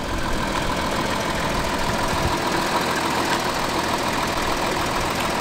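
An Audi A6 4G with air suspension idles steadily at close range while the car is lowered, a constant engine hum with broadband hiss running throughout and no speech.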